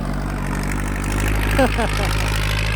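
A Kubota L5018 tractor engine runs steadily close by at a low, droning idle, with a voice talking briefly over it.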